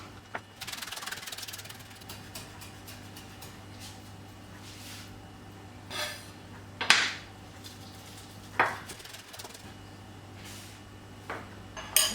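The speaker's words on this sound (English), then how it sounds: "I'm just gonna chop some spring onions and some basil, which I got from the garden" Knife chopping spring onions and garden basil on a board for a vegan quinoa salad: a few sparse, sharp knocks spaced seconds apart over a low steady kitchen hum, with no talk.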